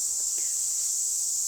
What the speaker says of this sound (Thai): เสียงจักจั่นแมงอีบ้านเฮาเนาะ